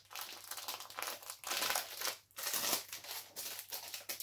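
Plastic packaging crinkles and rustles loudly and continuously while a parcel from an online shop holding a 40 by 55 picture is opened, close up with brief pauses and no talking.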